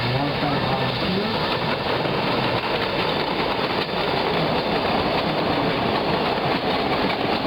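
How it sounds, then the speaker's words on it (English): Steady, loud rumble of a four-car electric trolley train rolling along rails at the Illinois Railway Museum, with continuous wheel clatter and broadband roar throughout, up close. "Put on this train, 4-car train, the Dennis model"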